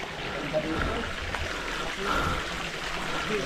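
River water flows in a steady, broad rush at a picnic spot, continuous and moderately close, with faint voices in the background.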